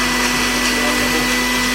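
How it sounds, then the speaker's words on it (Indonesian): A blender grinding galangal and garlic, a steady loud motor whine and whir running without pause. "kita dulu penghalusan lengkuas sama bawang putih"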